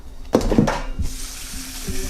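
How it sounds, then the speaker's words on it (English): Tap water runs into a pot of pork, garlic and onion for tamales, a splashing gush that starts after some clatter and continues steadily. "Water now."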